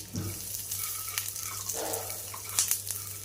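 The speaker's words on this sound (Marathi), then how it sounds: "आता हे शेंगदाणे आपल्याला जसे आपण पोह्यांसाठी खमंग असे तळून घेतो अशा पद्धतीने आपल्याला हे तळून घ्यायचे आहे किंवा भाजून घ्यायचे आहे" Peanuts fry gently in a little oil in a pan over low heat, giving a soft, continuous sizzle with faint scraping and clinks. The sound is quiet and no one talks.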